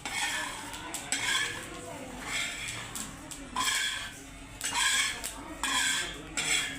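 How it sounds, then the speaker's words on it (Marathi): Sesame seeds roasting in a little oil in a pan make soft crackling and scraping as they are stirred, with clinks against the pan in uneven waves while a person talks at times. "तीळ भाजून झाले तर बघा चटचट तीळ उडायला लागले, तर छान भाजलेत"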